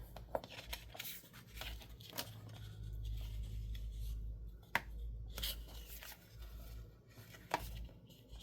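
Paper being trimmed for a crayon box junk journal, with sharp crisp cuts and snips standing out at irregular intervals over a low, steady background rumble, close and fairly quiet.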